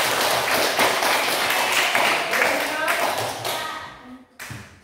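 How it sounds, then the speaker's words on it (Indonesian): Classroom applause from a teacher training group, a close, loud burst of clapping with sharp individual hand strikes that thins out and stops near the end, followed by a brief thud. "Tepuk tangan dulu buat kita."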